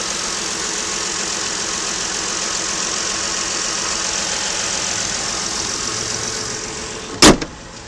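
A 2013 Ford Explorer with a 3.5 L V6 idles in a steady, even drone, with a single sharp click near the end.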